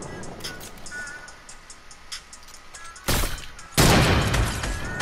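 Gunfire in Fortnite: two loud, sharp shot bursts close together near the end, standing out over quiet background game sounds.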